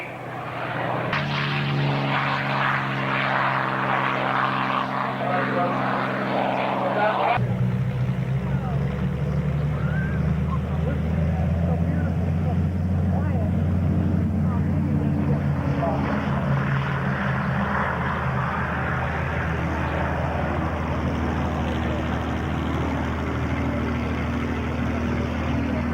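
A WWII warbird propeller aircraft flies at a July 2008 airshow in Geneseo, New York, its loud continuous engine drone shifting in pitch as it passes, with crowd noise underneath.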